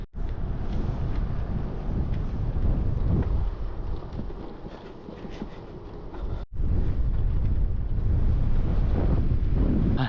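Strong wind roars across an open Australian Outback road, buffeting the microphone in a loud, continuous rumbling gust with a brief drop partway through, no voices.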